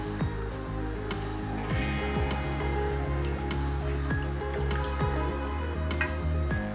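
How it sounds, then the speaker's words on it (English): One cup of plain water poured into a cooking pot during dinner preparation, giving a continuous close splashing and gurgling stream with scattered drips and squelches throughout. "I'm adding 1 cup of water."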